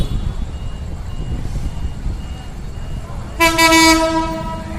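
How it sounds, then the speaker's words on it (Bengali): Panchagarh Express intercity train approaching a level crossing near a station, its rumble building steadily before a loud, sustained horn blast sounds close by near the end. "একটি ট্রেন আসছে, যতদূর আমার মনে হচ্ছে 794 পঞ্চগড়।"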